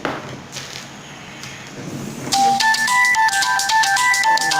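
A phone ringtone from an incoming call starts suddenly and plays a bright repeating melody loud and close, after a quiet stretch of faint workshop handling while a DIY 3D printer is being built.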